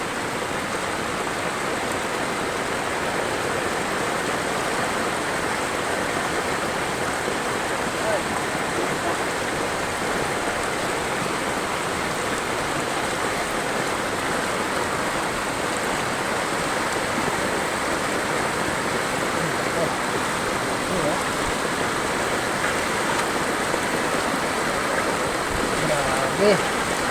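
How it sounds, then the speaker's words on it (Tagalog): Heavy typhoon rain and rushing floodwater make a constant, dense roar of water that holds steady and loud without pause, with no clear voices rising above the wash. "Wala pa rin tigil ang ulan."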